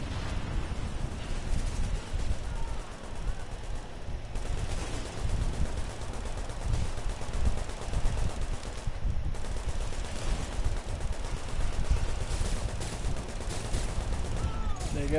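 A video game turret keeps up sustained automatic fire, a dense, continuous rattle of shots and rumbling blasts at steady loudness throughout, with faint voices underneath.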